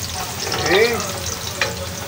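Chopped onion sizzles as it is sautéed in a pan with garlic for a tofu dish. A steady frying hiss runs throughout, with a brief squeak-like sweep and a light scrape of stirring partway through.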